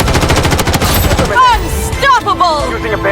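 Rapid, loud automatic gunfire rattles close up in the shooter game Blood Strike, fading into scattered shots as a voice speaks over it.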